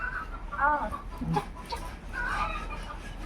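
Domestic chickens cluck near a rural home, giving a few short, throaty bursts spaced over a couple of seconds, fairly close, over a low background hum.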